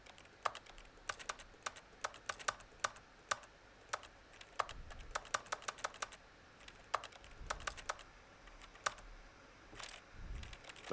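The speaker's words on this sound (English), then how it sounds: "Why is there like keyboard noises?" Computer keyboard typing in The Stanley Parable demo: scattered sharp key clicks in irregular bursts, faint and close, with no talking over them.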